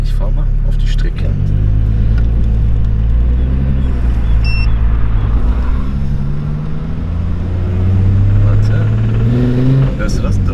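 A Volkswagen Golf VR6 with engine damage drives onto a track, its engine giving a loud, deep rumble that swells and shifts through the revs from inside the cabin, with people talking over it.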